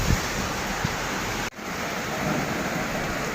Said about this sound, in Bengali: বৃষ্টি বাইরে বেড়ে গেছে